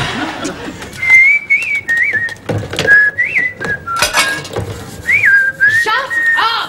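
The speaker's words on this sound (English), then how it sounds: "Whistling at sea." Someone whistles a wavering, tuneful melody in short phrases out at sea, close and clear, with a few brief knocks and bits of other noise between the phrases.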